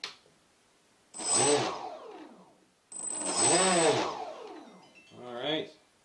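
The electric motor of an RC Powers MiG-29 park jet spins up its propeller in two loud bursts of rising and falling whine, then a shorter third spin, with quiet gaps between.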